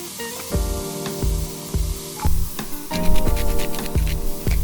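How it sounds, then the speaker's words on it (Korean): Celery and carrots sautéing in a pan, a steady close sizzle broken by repeated scraping and stirring strokes, loudest toward the end, with no voices. "색이 조금 나면 샐러리 그리고 당근 잘 볶아주세요."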